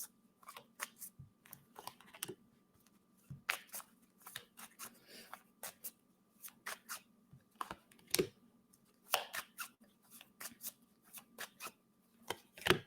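Tarot cards are shuffled by hand in quick irregular bursts of crisp riffling and slapping, close and fairly quiet, with short pauses between flurries and no talking.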